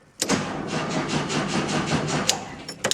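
Air-cooled VW Beetle engine cranking over on the starter after its ground straps were cleaned, a close rhythmic chugging of about three seconds with a few sharp clicks near the end.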